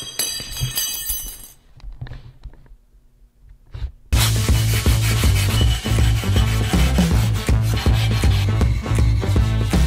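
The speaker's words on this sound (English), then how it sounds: "a very nice flexible piece of hand sanding paper" Sandpaper is rubbed by hand over a stainless Damascus carving knife blade, a fast, loud rhythmic rasping that starts after a quieter stretch of faint scrapes.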